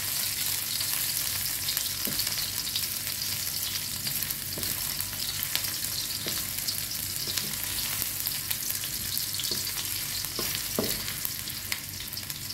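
Crab frying in a pan with aromatics, a steady dense sizzle and crackle throughout with occasional sharper pops and stirring clicks, close and continuous with no talking.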